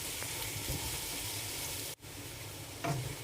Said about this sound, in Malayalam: നന്നായി വഴറ്റാം തക്കാളി നന്നായി വെന്തുടയണം അതുവരെ വയറ്റാം